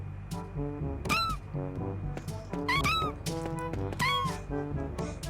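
A cat in the video game The Walking Pet lets out several rising, whiny meows over a droning background of repetitive game music, with brief clicks between calls.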